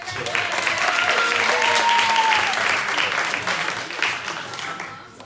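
Wedding guests applaud a groomsman during a best man's speech, a loud close burst of clapping from the crowd with scattered cheers and voices, fading away after a few seconds.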